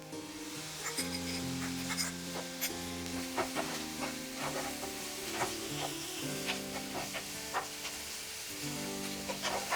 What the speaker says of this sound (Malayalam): അതിലേക്ക് ഞാൻ ഇഞ്ചിയും വെളുത്തുള്ളിയും ചേർത്ത് കൊടുക്കുകയാണ്.